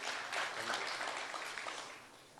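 Audience applause for Dr. Raman Singh at a televised interview event, a steady wash of clapping from a sizable crowd, moderately faint and continuous throughout with no talk over it.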